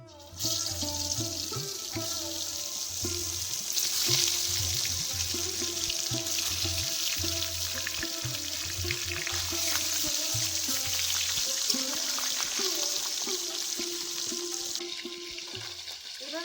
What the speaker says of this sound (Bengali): আমি এখন মাছগুলোকে ভেজে নিচ্ছি এইভাবে